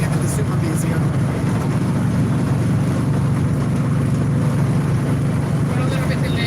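A 1969 Dodge Dart GTS with a 318 V8 drives through agave fields in Jalisco, Mexico, its engine a steady, loud low rumble throughout, with faint background voices.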